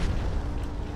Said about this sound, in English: The laser cannon, or the disruptor fire.